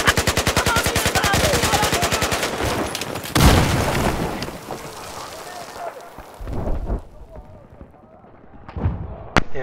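Enemy machine gun fire in Battlefield 4: rapid, evenly spaced, loud automatic shots rattle for about three seconds, then a heavy blast, with scattered further shots and booms trailing off.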